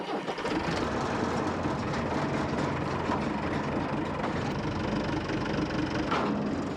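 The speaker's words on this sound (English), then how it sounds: "Whilst Tom tractors back to the brewery" Farm tractor engine driving along, a continuous low rumbling drone with steady knocking throb, fairly close and unbroken throughout, with no talk.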